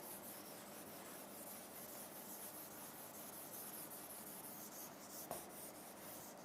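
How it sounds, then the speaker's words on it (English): Writing is wiped off a classroom board with a steady, faint rubbing swish that runs for several seconds, ending with a single light knock. "Now we will erase this."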